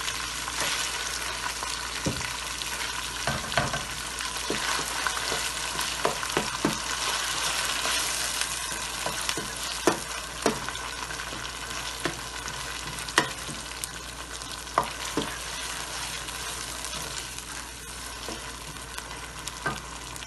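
Chopped onions sizzle and fry steadily in a hot pan for a qeema kachnaar dish, with a spoon stirring and scraping through them in repeated clicks; close, continuous, no voices.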